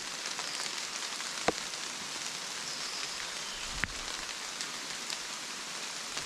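Heavy rain pours down outdoors in a steady, dense hiss, broken by two sharp knocks and with no voices.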